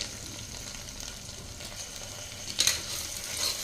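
Spices, green chili, curry leaves and tomato fry in a pan with a steady, soft sizzling hiss, and a short clatter of a stirring utensil comes near the end.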